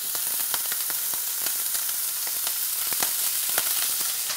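Garlic cloves fry in a pan of oil with pancetta, guanciale and smoked pork fat, giving a steady, loud sizzle with dense crackles and pops throughout, close up and with no voices.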